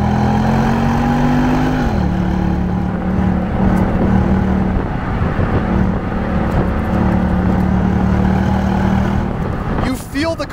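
Ford Mustang GT engine driven hard through a corner, a loud steady drone with a rising tone that drops as the throttle lifts, holding a constant note before a brief sharper burst near the end.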